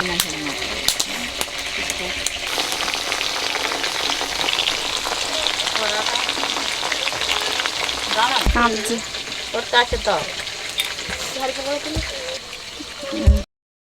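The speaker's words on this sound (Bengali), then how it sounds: "বাকি পকোড়া ভেজে নিচ্ছি" Pakoras deep-frying in hot oil give a loud, constant crackling sizzle with voices underneath, and a few clattering knocks near the end.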